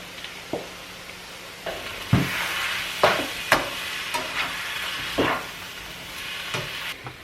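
Vegetables stir-fry with stir fry seasoning in a hot pan. A continuous sizzle runs underneath, and a series of scraping, clattering stirs breaks it at irregular moments, all close up with no talking.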